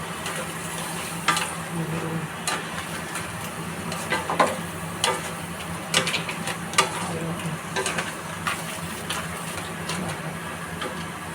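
Vegetables sizzle steadily as they fry in a pan. A utensil stirs them and scrapes against the pan with soft, irregular clinks, close and alone.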